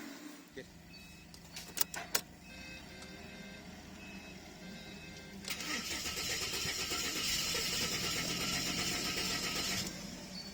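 A car engine cranks and catches, then settles into a steady idle rumble, after some clicks and mechanical noises. No talking.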